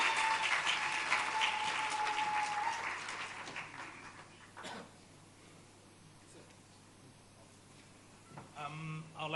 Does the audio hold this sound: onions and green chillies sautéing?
no